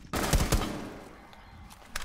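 Automatic gunfire from an online match of Tom Clancy's Rainbow Six, with a burst of loud shots near the start, a quieter stretch of background game noise, and another shot near the end.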